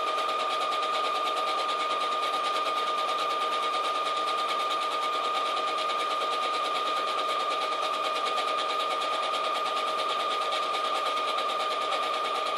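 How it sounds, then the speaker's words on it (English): A sewing machine stitches down a dress piece, a steady, continuous mechanical whir with a fast, even rhythm running close and alone without pause. "we are going to just start sewing it down"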